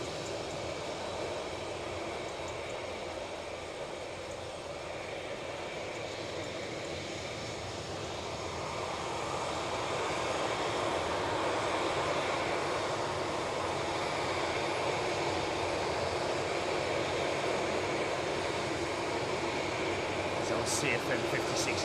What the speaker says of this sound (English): CFM 56s make a good old racket